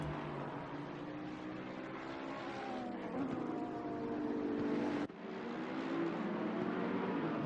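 Race car engines in a Mercedes-included sim racing field at Zandvoort drone steadily and loudly, several cars overlapping with rising and falling pitches as they accelerate, with no break in the continuous engine roar.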